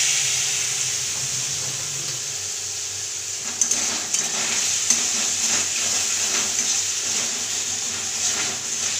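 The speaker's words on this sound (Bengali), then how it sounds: "এবার জল দিয়ে দেবো" Water poured onto frying masala in a pan for a Bengali begun ilish jhol, a loud continuous hiss and sizzle that swells after a few seconds with scattered crackles and spatula scrapes, no talking.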